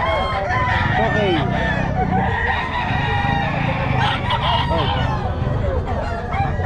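Several roosters crowing repeatedly and overlapping at a chicken market in Bocaue, Bulacan, loud and close, with clucking and a busy crowd murmur underneath.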